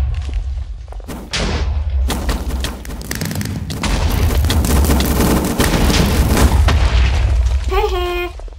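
Dense, heavy gunfire and booming impacts in a Titanfall-style Minecraft server match, with rapid bursts and thuds stacking up over several seconds under a talking player's voice.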